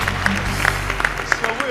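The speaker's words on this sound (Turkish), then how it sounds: "Cengiz için bir alkış rica ediyorum" An audience applauds for a performer named Cengiz on the Turkish TV talent show O Ses Türkiye: steady, dense clapping runs through the whole moment, mixed with a busy crowd and voices.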